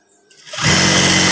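An electric sewing machine stitching fabric for a school PKK uniform, starting up and then running in a steady, close, loud whir.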